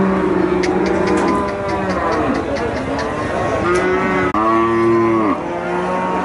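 Cattle, including draught bullocks and native breeds, moo loudly at the Melapalayam cattle market, with several long, overlapping, close calls sounding one after another over busy background noise.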